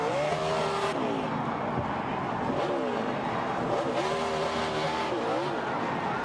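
NASCAR race cars roaring at speed, a loud continuous engine drone with rising and falling pitch sweeps as cars pass, under excited commentary voices throughout.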